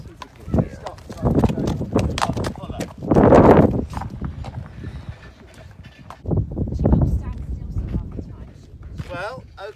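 A restless horse moves about, its hooves clip-clopping in irregular bursts of steps, fairly close and loud, with some snorting and rustling between.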